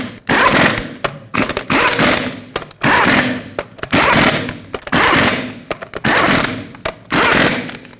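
Lug nuts on a 2011-2016 Ford F-350 wheel are run on with a power tool, giving a string of loud, close, rattling bursts separated by short pauses.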